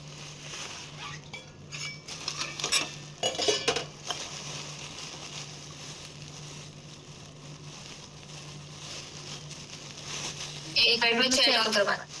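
Dishes and cutlery clink and rattle in a home kitchen sink while being washed, with scattered light metallic clatters and a louder burst of clanking near the end, heard under a steady background hum.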